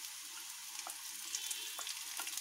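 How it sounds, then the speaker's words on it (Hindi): Cabbage for noodles fries lightly in a pan with a soft, even sizzle, a few faint stirring scrapes rising briefly above it, quiet and close. "अब इसमें थोड़ा सा हल्का भूनने के बाद इसमें बंधा गोभी डालेंगे।"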